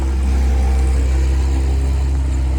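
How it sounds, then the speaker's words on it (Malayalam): A boat engine on the Poovar backwaters drones steadily as the boat is steered toward the shore, a constant low, loud rumble with no voices. "പുള്ളിക്കാരൻ ബോട്ട് അങ്ങോട്ട് അടുപ്പിക്കുകയാണ്."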